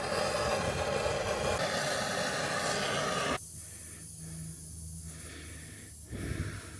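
A torch roars in a steady, loud hiss while heating the tie rod end on the front suspension of a Mk1 Audi TT 225, then it drops to a quieter flame with brief puffs.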